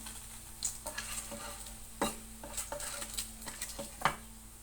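Luncheon meat coated in flour and pepper frying in a pan, sizzling steadily while a utensil clinks and scrapes against the pan in irregular bursts, close up with no talking.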